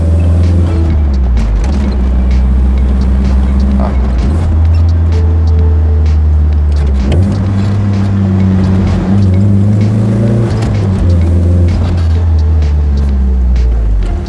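A 1994–1995 Opel Kadett GSi Bertone driving after a brake and suspension overhaul, its engine droning loud and steady from inside the car with shifting rev tones and occasional clunks.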